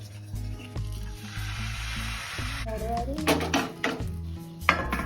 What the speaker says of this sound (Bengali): আবারও কড়াইয়ে তেল গুলিয়ে নেওয়া হচ্ছে